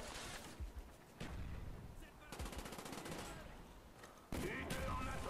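A silenced AK-47 in the video game Black Ops 1 fires in rapid bursts of muffled, clattering automatic shots separated by short pauses. A voice talks faintly underneath.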